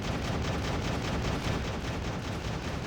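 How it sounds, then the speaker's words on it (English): Constant gunfire in a real-time strategy battle in the video game Act of Aggression, a dense, continuous crackling barrage at steady loudness with no pauses. "people are shooting things"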